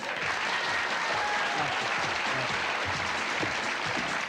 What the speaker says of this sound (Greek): Ελάτε, χειροκροτήστε την κυρία.